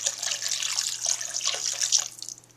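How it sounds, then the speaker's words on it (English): Water pours from a tap into a pot of bones and seeds for bone broth, a steady close splashing rush that tapers off near the end, with no voices. "I'm going to put enough water in to cover this."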